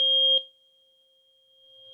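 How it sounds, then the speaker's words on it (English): A tuning fork gives a pure, steady ringing tone with a faint higher overtone, briefly louder at the start before settling into a quiet, sustained hum. "No, that sound is Phil's tuning fork now."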